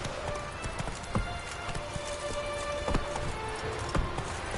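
Horse hooves clip-clopping in a PS4 video game, an uneven run of hollow knocks over a constant rainy hiss, with no talk.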